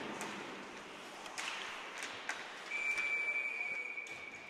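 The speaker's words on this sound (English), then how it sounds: "Whistle blows." A referee's whistle sounds at an ice hockey game between Little Caesars and Chicago Mission, a thin sustained tone coming in late over steady arena crowd noise, moderately faint and distant.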